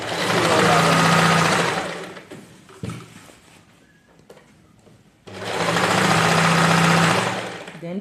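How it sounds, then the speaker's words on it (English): A sewing machine stitches a long A-line dress in two loud, steady runs, first and last thirds, with a quieter gap of handling and rustling between them. "So we'll take it to the sewing machine, then we'll sew it all."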